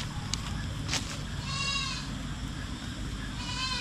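Several goats bleat on a farm, their wavering calls rising clearly over a steady background of low rumbling noise, with a couple of sharp bleats early and longer quavering ones in the middle and end.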